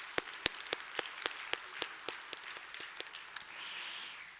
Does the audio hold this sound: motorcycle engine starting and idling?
no